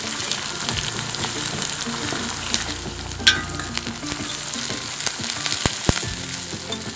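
Tomatoes fry with onions in a pan, sizzling steadily at close range, with a few sharp clinks and stirring scrapes over the constant hiss and no talking.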